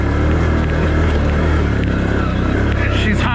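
Can-Am Outlander 1000R XTP or Polaris Sportsman 450 HO ATV engine roaring steadily at high throttle while climbing a very steep hill, loud and close throughout with a slight rise near the end.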